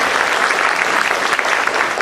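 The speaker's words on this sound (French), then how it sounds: "On peut les applaudir quand même" Steady applause from an audience during a role-play game at a live event, a dense, even wash of clapping that fills the whole moment with no voices on top.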